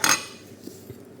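Metal utensils clink sharply against a bowl once at the start while sauce for a beetroot salad is stirred, followed by a few soft, faint scrapes and taps nearby.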